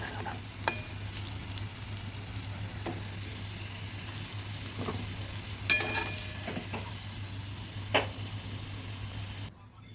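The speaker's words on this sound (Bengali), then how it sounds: "আলুটা ভাজা হয়ে গেছে আমি এবার তুলে নিচ্ছি" Potatoes fry in oil in a wok, a steady close sizzle under a low hum, punctuated by several sharp scraping stirs of the spatula before it cuts off at the end.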